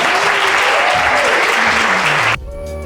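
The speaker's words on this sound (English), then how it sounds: "Big round of applause." Loud, dense applause from a live podcast audience for the first live Property Now episode, steady for over two seconds before cutting abruptly into a music bed.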